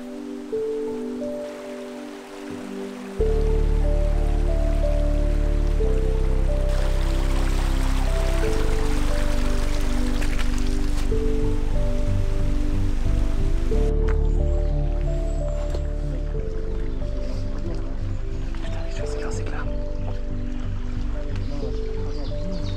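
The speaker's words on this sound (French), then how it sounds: "il commence à pleuvoir" Rain pattering onto a small stream during trout fishing with lures, steady close dripping and splashing over running water, with a low tonal hum underneath throughout.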